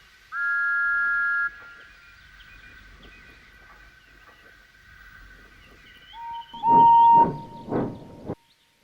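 Animated Thomas the Tank Engine steam train whistles, a long steady toot followed by shorter, louder impatient blasts near the end, heard alone without talk.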